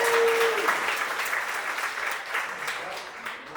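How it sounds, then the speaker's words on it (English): A comedy club audience in Oklahoma City gives a round of applause, a full wash of clapping that carries on steadily and slowly thins. Scattered voices mix in with it. "one more round of applause for the comics team tonight"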